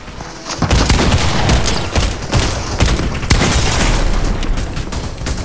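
Continuous heavy gunfire in a Fortnite match, loud and dense with overlapping shots, booms and rapid bursts filling the whole stretch without pause.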